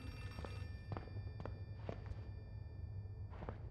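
A phone in the horror game Outlast 2 rings in a few short, sharp tones spaced irregularly over a low rumbling backdrop, faint and somewhat distant.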